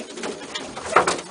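A homing pigeon in a loft coos in a short, soft rolling burst near the end, close by, over faint background rustle.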